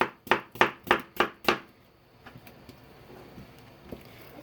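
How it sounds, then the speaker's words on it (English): A knife cutting large circular slices off a watermelon, six quick, evenly spaced crunchy chops in a row, followed by quieter faint handling noises. "I'm going to slice off large circular slices off of it"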